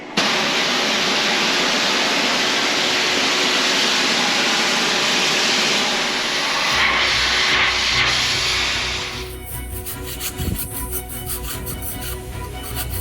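A sailboat's hull bottom is scrubbed with a harsh, continuous rubbing hiss up close. The texture shifts partway through into a rougher, more uneven scraping.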